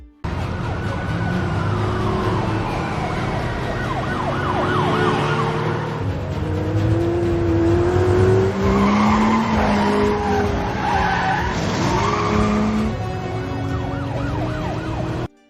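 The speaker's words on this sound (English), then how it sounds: "police cars with flashing red and blue lights chase him through a busy city highway" Police cars with flashing lights chase a luxury car along a busy city highway, filling the scene with continuous loud engine roar, screeching tire skids and wailing sirens that rise and fall throughout, with no talking.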